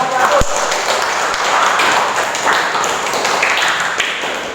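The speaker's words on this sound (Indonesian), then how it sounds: "Beri tepuk tangan untuk kelompok 1." Classroom applause for a student group during a teaching practice lesson, loud dense clapping from a roomful of people, opening with a sharp knock and carrying on steadily throughout.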